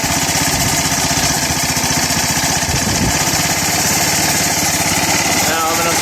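A Speedaire gas-powered air compressor with a Kawasaki engine runs close by, a loud, steady, rapid chugging drone that stays even for the whole stretch.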